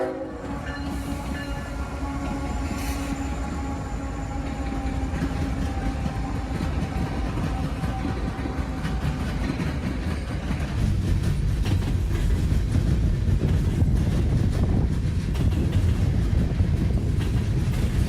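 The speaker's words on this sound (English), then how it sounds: "3 big GE locomotives would be powering this 2-mile-long string of mixed commodities" A two-mile-long mixed freight train, Q601, led by three GE locomotives, rumbles steadily past with a continuous heavy roar and rail noise that swells louder toward the end, an early horn blast sounding faintly.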